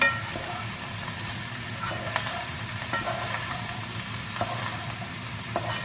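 A mushroom sauté is stirred in a frying pan over a continuous sizzle, with light clinks and scrapes at intervals and faint traffic hum and a distant horn in the background.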